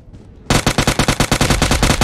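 Rapid automatic gunfire in PUBG Mobile Lite, a loud, steady burst of about fifteen evenly spaced shots following a brief quiet moment, with no voices over it.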